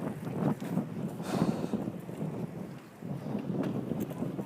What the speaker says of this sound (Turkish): Havada rüzgar da var.